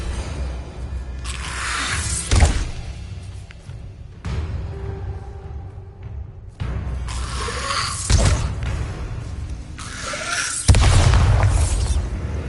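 Bombarda spell explosions in Hogwarts Legacy, several loud booming blasts with bursts of debris scattered across the clip, heavy low rumble between them and no talk.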